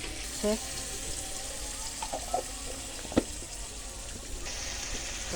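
Cinnamon and cardamom stirred with chopped onion in a pan give a soft, steady sizzle with a few faint scraping stirs and one sharp clink, all fairly quiet.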